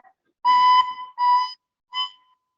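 A recorder blown so it gives an off, different tone: three separate whistly notes, the first long and the later ones shorter with a wavering pitch, each followed by a pause.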